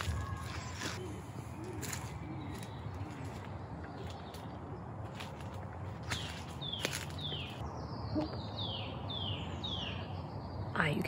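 A song thrush sings from somewhere among trees, its repeated high phrases coming moderately distant over steady outdoor background, with a few other faint bird calls and light rustling.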